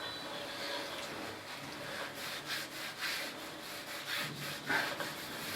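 Soft, scratchy rubbing on a board to erase writing, a steady brushing friction with repeated strokes, fairly quiet and close, in a classroom language lesson.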